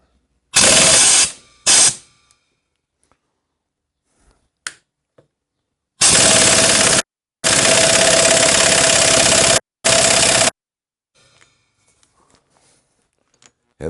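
Harley-Davidson 1997 Evo Fatboy motor sprocket nut being tightened with a pneumatic impact wrench, several loud hammering bursts of varying length separated by silence, with small metallic clicks between.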